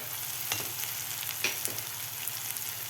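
Onion and tomato sizzle and fry with spices in a pan for puri bhaji, a steady close crackle with occasional stirring scrapes and no talking.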